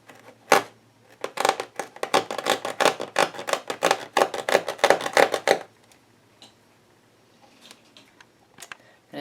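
An X-Acto knife cutting through lampshade material: a rapid series of sharp, close scratchy strokes for several seconds, then quiet with a few faint scrapes and clicks.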